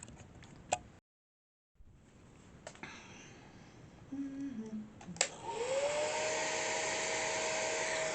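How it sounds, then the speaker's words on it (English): A hair dryer blows on a wig, starting around midway with a click and a rising steady whir that settles into a loud, constant airy roar close to the microphone, after a few brief handling knocks and a short silent gap. "Just gonna blow dry it a little bit."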